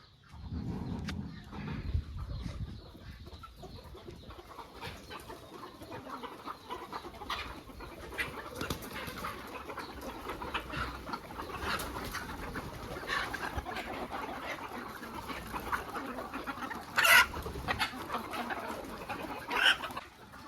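Country chickens being let out of their coop on a farm cluck and coo steadily, with occasional louder calls over a constant background of fowl noise.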